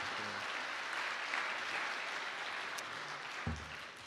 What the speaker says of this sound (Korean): 저의 자랑이 아니고 하나님께 영광의 박수인 줄로 믿습니다